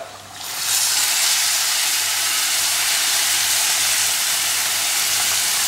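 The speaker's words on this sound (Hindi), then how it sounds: "अब मैं इसके अंदर डाल रहा हूँ ये दही जो हम लिया था" Yogurt poured into a pan of frying onion masala in mustard oil sets off a sudden loud hiss. It swells within a second and holds as a broad, steady sizzle to the end, with no voices.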